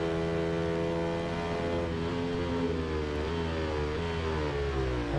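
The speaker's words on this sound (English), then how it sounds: "It is nice to actually hear a bike noise and exhaust notes after the silence of" A racing motorcycle engine and exhaust in the Ride 2 video game hum and drone continuously, with layered harmonic tones rising and falling slightly as the revs shift.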